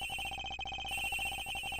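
A telephone rings in a rapid electronic trill inside a cargo hold in the Ace Attorney Investigations video game, steady and unbroken for the whole stretch with no talk over it.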